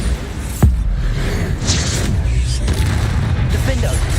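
A Bombarda spell explosion from Hogwarts Legacy gameplay: one sharp burst early on, followed by a dense, steady rumble of combat noise with spoken voices running through it.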